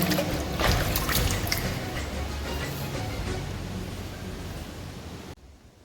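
Cold water trickles out of the rock near a temple at Rajmachi Fort, a steady close splashing flow with a few brighter splashes early on before it cuts off.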